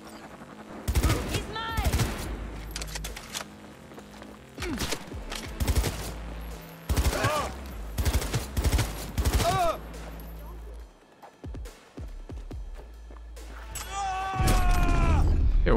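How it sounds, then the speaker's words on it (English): Gunfire from police in the video game Cyberpunk 2077: rapid sharp shots and automatic bursts ring out repeatedly across the scene, with a brief spoken line and a loud sustained burst near the end. "Why are the cops shooting me?"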